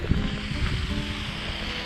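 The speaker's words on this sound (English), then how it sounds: "this fountain is powered by water from that pump house I went to earlier today" A Munich fountain fed by water from a pump house splashes steadily and fairly close, a continuous broadband wash with no voices.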